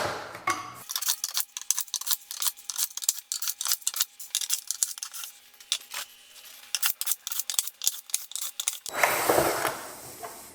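A power screwdriver whirs in repeated short bursts with clicking ratchet-like ticks while driving out the T20 screws of a Mercedes convertible's boot divider, close and busy, with a louder rustle of handling at start and end.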